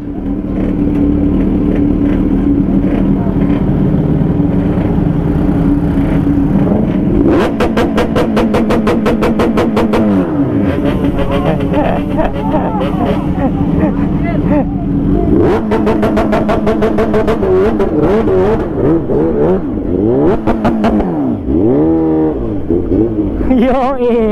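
Kawasaki Ninja H2 motorcycle revved hard on launch control at a wedding gathering, a loud, close engine holding at the limiter with rapid stuttering bursts, then dropping and climbing again several times, with voices heard over it.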